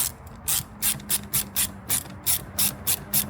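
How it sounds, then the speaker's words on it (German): A ratchet fitted with a 6 mm socket loosens a hose clamp on a BMW M4 intake, giving about a dozen crisp, evenly spaced clicking bursts close by, with no talk. "Dann löst ihr die Schelle"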